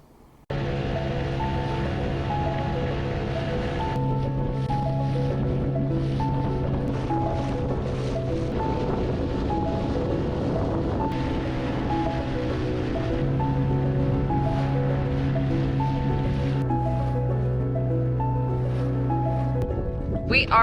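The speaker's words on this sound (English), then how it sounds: "We are out on a dinghy ride today." An outboard dinghy motors over sea waves, a steady droning engine hum with wind and water wash running continuously throughout, fairly close and even in level, with no clear talk.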